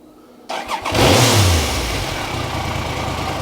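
A Triumph Sprint 900 motorcycle engine fires up after a brief starter crank, jumps to a loud rising rev, then settles into a steady, close running idle with no talk over it.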